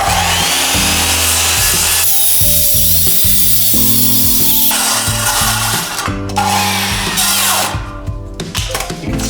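A power saw rips a quarter inch off a wooden board during a window relocation in a kitchen remodel, a loud, close, continuous grinding whine that shifts pitch as the cut goes on.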